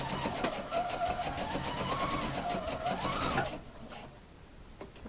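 A sewing machine stitches piping cord into a bias strip, a close steady mechanical whirr with rising and falling pitch for about three seconds, then fading to quiet handling.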